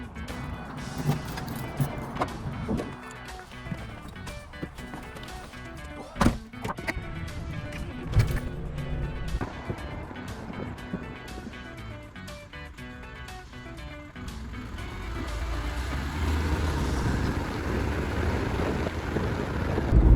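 A Mazda Bongo camper van drives on the road, heard from inside as a low engine rumble and road noise with scattered knocks and rattles, growing steadier and louder toward the end.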